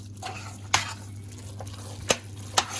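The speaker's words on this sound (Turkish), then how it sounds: "Ve iyice karıştıralım." Vermicelli salad being stirred in a pan for an iftar meal: a low steady hum beneath, broken by three sharp spoon scrapes and clacks against the pan, near and fairly quiet.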